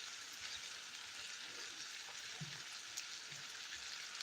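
Bacon and fish fry in a pan for an olive-topped fish dish, giving a steady, soft hiss of fat crackling with faint scattered pops, even and unbroken throughout with no talking.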